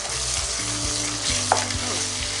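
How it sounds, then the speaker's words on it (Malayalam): Ground spice powders sautéed in a pan for a vegetable pulao: continuous close sizzling and frying with scraping stir strokes and a few low knocks from the utensil, no one speaking. "ഇതിലേക്ക് ഇട്ടിരിക്കുന്ന പൊടികളുടെ പച്ചമണം മാറുന്നത് വരെ ഒന്ന് വഴറ്റിയെടുക്കാം."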